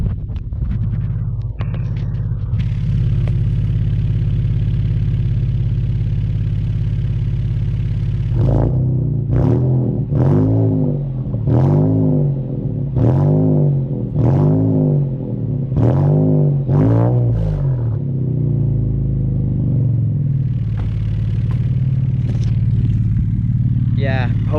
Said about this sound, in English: I just have to rev it.